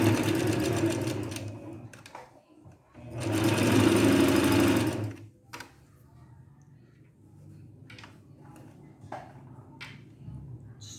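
A sewing machine stitching the pieces of a short-sleeved blouse runs in two steady whirring bursts, the second lasting about two seconds, followed by quieter handling sounds.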